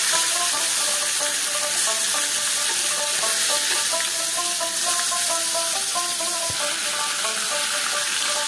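Rohu fish fries in hot mustard oil, a continuous bright crackling sizzle that stays fairly loud and even, with occasional small pops and no voices.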